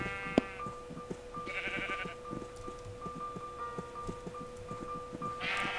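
Sheep in the Minecraft video game bleat in short repeated calls over a steady ticking, clicking game background, fairly quiet with no voices.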